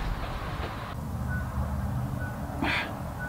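A kitchen-style timer beeps in a workshop, two brief bright tones standing out over a steady machine hum, one faint early and a louder one near the end.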